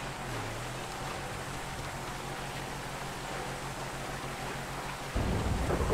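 Steady rain with a low thunder rumble fills a driving video game scene, the storm constant and fairly loud throughout, with a heavier burst of rain noise in the final second.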